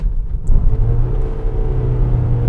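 A car in L gear engine-braking down a steep hill, its engine revving higher as a steady, loud low rumble and whir that holds throughout, with no talk.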